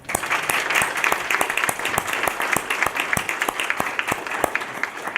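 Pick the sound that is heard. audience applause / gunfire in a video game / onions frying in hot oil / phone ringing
audience applause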